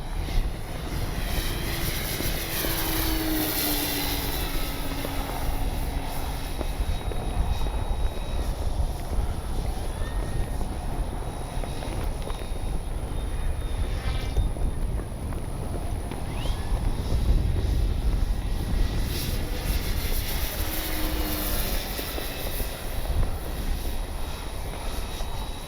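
An RC model F4U Corsair warbird plane flying at full speed, its engine a steady loud drone that holds throughout with wind buffeting the microphone.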